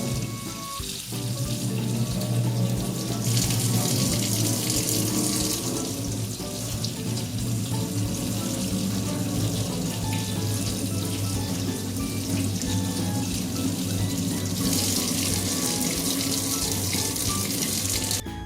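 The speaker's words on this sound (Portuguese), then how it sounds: "Trouxe aqui nessa pia do lado de fora para poder pôr água." Water runs steadily from an outdoor sink tap while orchids are being watered, a continuous close splashing flow with a brighter, harder hiss in two stretches as the stream hits differently.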